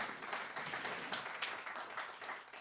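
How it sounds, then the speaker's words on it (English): Audience applause at a jazz chamber music concert, a steady wash of many hands clapping at moderate, even volume throughout, with no voices over it. "Can we give him a round of applause?"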